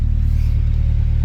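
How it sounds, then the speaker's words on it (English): A car's engine idles steadily after an exhaust crack has been repaired, giving a close, continuous low rumble with no blowing noise and no other sounds. "The car sounds a lot quieter, but in a good way, that it's not blowing."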